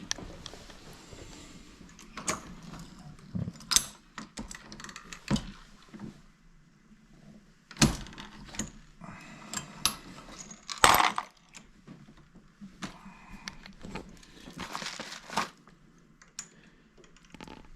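A Lee Six Pack Pro progressive reloading press clacks and clinks as shotgun rounds are loaded one-handed, with irregular sharp metallic snaps and rattles separated by short quiet gaps.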